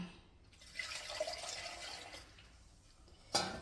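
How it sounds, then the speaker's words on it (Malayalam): Water sloshes and pours quietly as ground spice paste is rinsed out of a vessel, with a gentle trickling run and a brief sharper splash near the end. "നമുക്ക് അങ്ങോട്ട് കഴുകി അങ്ങോട്ട് ഒഴിച്ചെടുക്കാം"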